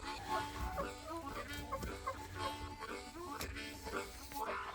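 Broody hen on a homestead in Tasman, New Zealand, clucking in low, repeated murmuring bursts, close by, with a person talking over it intermittently.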